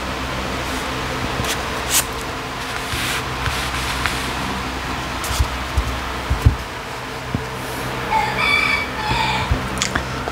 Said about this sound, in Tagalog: baka kayo, masiselan kayo, sa tunog ng manok